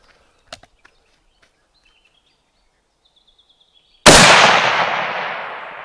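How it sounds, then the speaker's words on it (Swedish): A single loud FN FAL L1A1 rifle shot fired at a target around half a kilometer away, a sudden sharp crack with a long decaying tail after a near-silent pause with faint outdoor ticks. "Okej, skott kommer."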